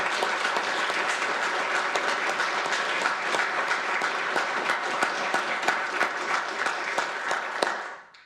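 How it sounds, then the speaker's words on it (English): A large audience at a city State of the City address bursts into sustained, dense applause that holds steady at full volume for several seconds before tapering off at the end, with no talking over it. "If you could please stand and join me in a round of applause."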